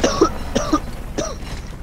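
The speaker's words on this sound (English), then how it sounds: "I should probably mute myself when I'm coughing this hard." Hard, harsh coughing in three bursts, each a pair of rough hacks, close and loud over faint background noise during a Gears of War 2 gaming session.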